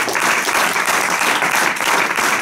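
Audience in a theatre in Székesfehérvár applauding after a performance of a play, dense steady clapping throughout at close range, with no voices on top.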